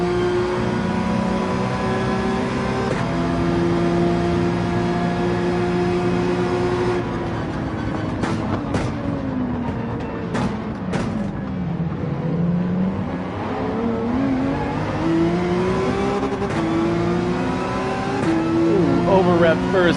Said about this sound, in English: Thank you, Dano, for having a nice sounding V10 that showed me that you're right beside me